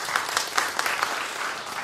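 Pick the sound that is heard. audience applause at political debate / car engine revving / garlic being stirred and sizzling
audience applause at political debate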